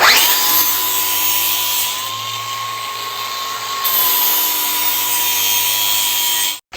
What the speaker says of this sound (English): about to use the American sharpener on my DeWalt